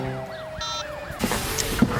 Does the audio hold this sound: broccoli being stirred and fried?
no